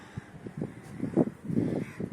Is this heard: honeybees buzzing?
no